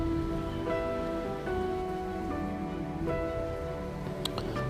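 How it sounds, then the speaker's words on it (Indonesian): Heavy rain pours steadily onto surfaces near a ferry crossing from Bali to Lombok, a dense, constant hiss filling the scene, with a few sharper drips and knocks near the end. "Hujan turunnya semakin deras saja,"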